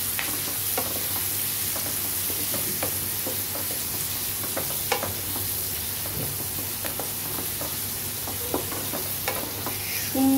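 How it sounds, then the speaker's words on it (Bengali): Onions frying in a pan for ghugni, a steady broadband sizzle running throughout with occasional stirring scrapes and clicks, fairly close and even in level, with no talking. "পেঁয়াজটাকে আমি ভালো করে ভেজে নেব।"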